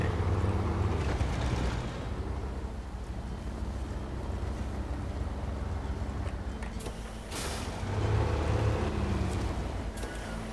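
A Tatra truck in SnowRunner drives through a river with a continuous low engine rumble and a rushing wash of water. The sound swells slightly near the end, and no one speaks.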